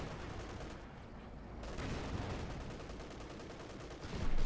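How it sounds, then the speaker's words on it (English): Dense, continuous gunfire and explosions from a grenade assault in the Company of Heroes 2 strategy game, with rapid bursts that swell louder toward the end and no talking. "Grenade assault off there."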